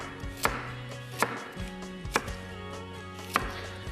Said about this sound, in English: We'll finish chopping the rest.